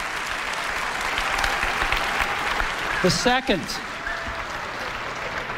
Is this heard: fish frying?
no